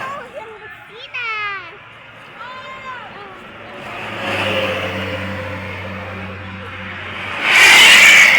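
Trucks and cars pass along a toll road at night, a broad engine rumble swelling midway and a loud, close pass at the end, with children's voices chattering early on.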